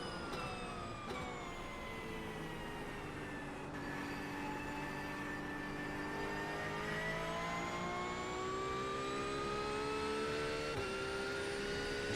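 Race car engine in the iRacing simulator at Watkins Glen, a steady high-pitched whine that rises and falls through gear changes, with brief shifts, continuous and moderately loud.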